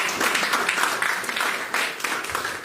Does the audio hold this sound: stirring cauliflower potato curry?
no